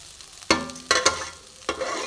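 Gobindobhog rice frying with whole spices and ginger paste in a pan for raw banana pulao, heard as a soft sizzle broken by three sharp stirring scrapes, close and without voices.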